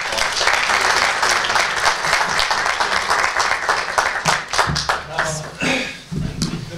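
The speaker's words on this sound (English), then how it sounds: "let's give the delegation a round of applause" Applause for a visiting delegation at a press conference in Michigan, a dense sustained clapping from an audience filling the room for nearly seven seconds, with some voices mixed in and a brief dip near the end.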